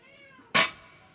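A cat gives one loud, close meow while waiting to be fed, the cry rising suddenly out of a quiet room and fading after about half a second.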